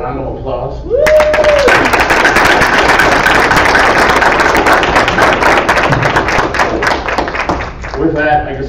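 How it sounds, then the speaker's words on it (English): A board meeting audience applauds Chief Carrillo and his group, a close, loud burst of clapping that starts after a brief spoken word and keeps going for about seven seconds before fading into talk. "if we could we give Chief Carrillo and his group a round of applause?"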